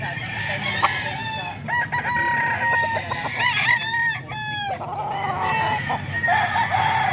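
Several roosters crow in overlapping calls over steady background noise, with clucking mixed in, at a gamefowl sale in San Jose del Monte, Bulacan.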